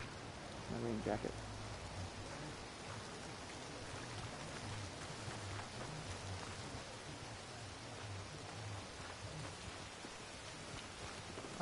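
Steady rain in Red Dead Redemption 2 hisses evenly throughout, a dense wash of drops with a brief low thump near the start.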